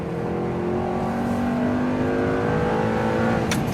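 An Audi R8 on a lap of the Nürburgring drones steadily from inside the cabin, its engine note loud and continuous with a slight rise in pitch, and a brief sharp bump or clatter near the end.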